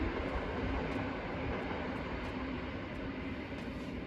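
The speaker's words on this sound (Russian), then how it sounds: "Давай снимем поезд." A graffiti-covered train passes close by in the Bydgoszcz area of Poland, a steady loud rumble of wheels on rails that holds an even level throughout without voices.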